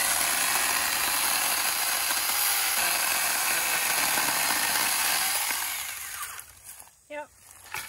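A SAKER 4-inch mini battery chainsaw cuts through branches with a loud, steady buzzing whine that runs for several seconds, then winds down and stops, followed by faint clatter.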